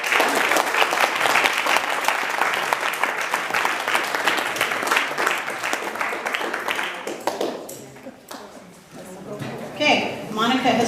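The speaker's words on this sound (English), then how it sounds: "So big round of applause for the sponsors." An awards dinner crowd for a 4-H horse project claps for the sponsors, with sustained, lively applause that thins and tapers after several seconds as voices come through near the end.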